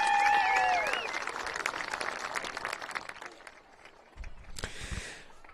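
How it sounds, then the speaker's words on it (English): Crowd in the stands at a high school football game, Klamath Union at Cascade Christian, applauding cross-country seniors: a dense wash of distant clapping and cheering that fades over a few seconds, with a brief tonal whistle at the start. "Let's give a round of applause for all of them."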